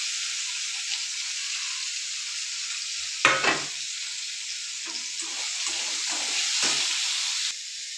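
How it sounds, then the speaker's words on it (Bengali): Potatoes stirred in a frying pan give a continuous bright frying hiss up close, with a loud spatula knock partway through and a few softer scraping strokes after, no voices. "এই দেখুন আমি আলুটা দিয়ে নাড়াচাড়া করে নিচ্ছি"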